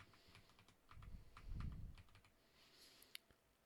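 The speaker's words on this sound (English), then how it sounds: "you probably hear me hitting the keys to move around" Computer keyboard keys clack during gameplay of To End All Wars, a handful of soft close taps with a low rumble underneath, quiet and without speech.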